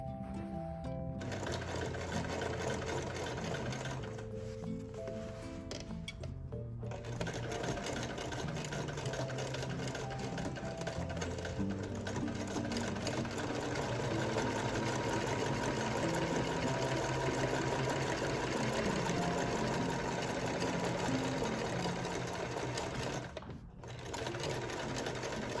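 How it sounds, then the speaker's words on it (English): Sewing machine running stay stitches around the openings of fabric for round storage bins, a steady close mechanical whir that runs almost continuously, with brief pauses and a short stop near the end. "take it over to my sewing machine, and do stay stitches 1/4 of an inch around each of the 4 openings"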